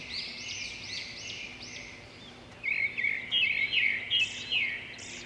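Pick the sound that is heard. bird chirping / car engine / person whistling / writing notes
bird chirping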